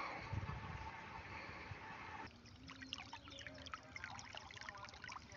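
Water gushing from a 2.5-inch irrigation pipe on a shallot field, a steady broad rush that shifts partway through into a trickling, splashing flow, moderately close and alone.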